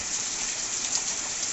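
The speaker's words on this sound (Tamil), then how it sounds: "சரியான மழை பெய்யுது" Heavy rain falls in a dense, steady hiss of countless drops pattering on surfaces, loud and unbroken from start to finish with no voices over it.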